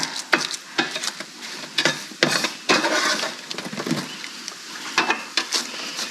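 Ratatouille stirred in a pan, scraping and clacking in a string of short irregular strokes over a soft steady sizzle of frying vegetables, close and moderately loud with no talk.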